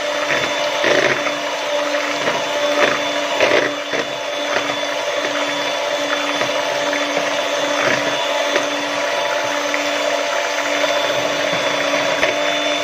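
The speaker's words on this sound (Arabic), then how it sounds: "هنضرب لحد ما قشر البرتقال يتضرب كويس والسكر يدوب برضه" Electric blender or mixer whirring steadily as it beats orange peel and sugar for a cake batter, a loud continuous motor whine with slight rattles and no talk.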